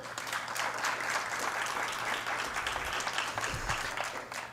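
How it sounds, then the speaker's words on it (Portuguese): Sustained applause from a conference audience, a continuous crackle of clapping hands at moderate volume with a few low thumps underneath. "Uma salva de palmas para Brunel."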